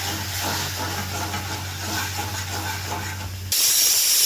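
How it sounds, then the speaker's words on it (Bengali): Steam hisses from a pressure cooker whistle on a stove where lentils are cooking, a constant airy rush that suddenly turns louder and sharper near the end, with a low hum beneath. "আমার প্রেশার কুকারে সিটি দিয়েছে"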